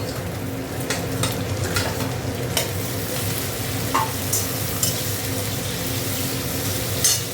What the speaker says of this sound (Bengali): পেঁয়াজটা একটু ভাজা ভাজা টমেটো দিয়ে দিচ্ছি।